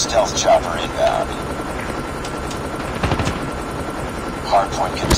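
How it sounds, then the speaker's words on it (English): Rapid machine-gun fire and a chopper's rotor drone from a stealth helicopter strike in a Call of Duty multiplayer match, loud and continuous with repeated bursts throughout. "Stealth chopper inbound."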